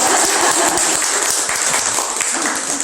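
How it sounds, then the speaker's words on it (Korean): Dense, steady audience applause at a Korean talk-concert, continuous clapping from a crowd filling the room for a few seconds without voices. "박수 여기서요."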